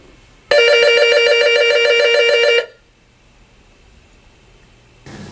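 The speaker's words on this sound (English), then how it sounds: "Let me simulate a ring" A simulated telephone ring used to test hearing: a single loud electronic trilling burst lasting about two seconds, rapid and buzzy, then cutting off abruptly into near silence.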